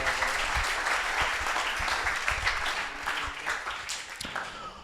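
An audience applauds after a startup pitch, a sustained burst of many hands clapping with some individual claps standing out, gradually thinning and fading toward the end.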